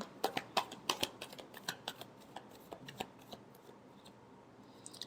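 A deck of tarot cards is shuffled by hand in a quiet room, giving a run of soft, rapid riffling flicks that start crisp and grow gentler and sparser toward the end.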